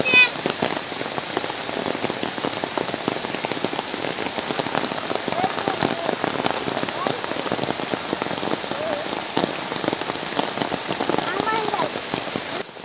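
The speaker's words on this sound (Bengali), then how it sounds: "নদীর পাড়ে ঝুপঝাড়ের নিচে বসে বৃষ্টি উপভোগ করা সত্যি চমৎকার একটা মুহূর্ত ক্রিয়েট হয়েছে" Rain patters steadily on leaves and brush along a riverbank, a dense close crackle of drops that runs unbroken throughout.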